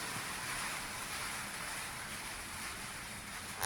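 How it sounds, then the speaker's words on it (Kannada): Steady, even hiss of rain falling at night, continuous and moderately distant, with no voices. "ಮಳೆ ಪ್ರಾರಂಭ ಆಗಿದೆ. ಈಗ ಇನ್ನು ಸ್ಟಾರ್ಟ್ ಆಗಿದೆ."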